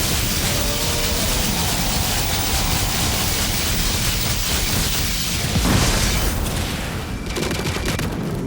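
A bomb in The Witcher 3 goes off as one dull boom near the middle. It sits inside a dense, continuous wash of game noise and fighting, and nobody speaks.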